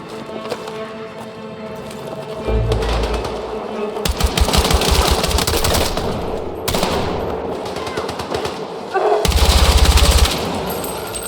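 Gunfire in the video game Battlefield 6: rapid automatic bursts with dense rattling shots, several loud volleys separated by brief pauses, close and dominant.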